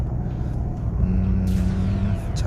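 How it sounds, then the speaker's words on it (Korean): A modified 2013 Hyundai Genesis BH380 accelerates in third gear from about 60 km/h on light throttle, heard from inside as a steady low engine drone and rumble that rises slightly, with no talk. "3단 뭐 3분의 1 정도만 밟아도 이렇게 수월하게 가속이 되기 때문에"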